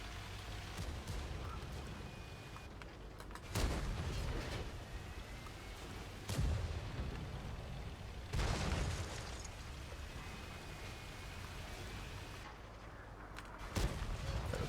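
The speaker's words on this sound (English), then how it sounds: "This guy's still firing HE." World of Tanks cannon fire with high-explosive shells, a handful of sharp blasts spaced several seconds apart over a constant rain-like battle noise, fairly faint and distant.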